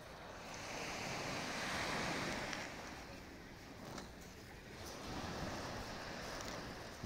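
Sea waves washing in at an estuary in Antalya, Turkey, a steady broad surf wash swelling and easing over several seconds, with wind buffeting the microphone and no speech.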